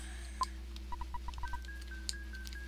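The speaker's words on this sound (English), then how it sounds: "So we need to make two phone calls here." Telephone dialing in the video game EarthBound: a string of about eight quick electronic keypad beeps in an even rhythm, clear but faint over a quiet game background hum.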